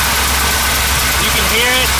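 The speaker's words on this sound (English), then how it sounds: "there's an exhaust leak along his header somewhere" A 1979 Chevrolet Camaro with an exhaust leak along its header idles close by, a steady loud engine drone with a ticking, puffing edge, while someone talks over it.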